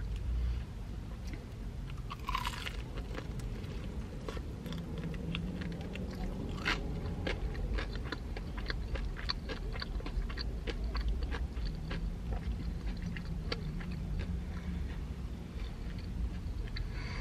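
Crispy Taco Bell chicken wings being bitten and chewed up close, with repeated crunchy bites and steady mastication running throughout, no talking.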